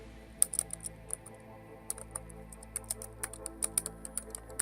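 Rapid, uneven clicking of computer keyboard keys as text is typed into a banner design, with short bursts of keystrokes, close and fairly quiet, with no talking.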